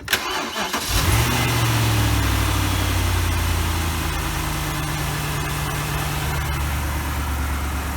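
A BMW E64 650i V8 cranks and catches, then settles into a loud, steady high idle with a deep rumble close by.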